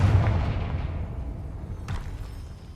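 In Hogwarts Legacy, a Confringo blasting spell lands with a loud, booming explosive burst that slowly fades, followed by a second, smaller crackling blast near the end.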